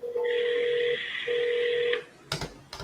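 A telephone keypad dialed in two bursts: a long steady DTMF tone, a short gap, then a second tone. Clicks and handling noise follow, close and clear, with no voices.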